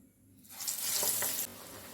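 Crispy green gram vadas are dropped into hot oil and burst into a sudden, loud sizzle that swells and then settles into a steady bubbling hiss, close and without voices.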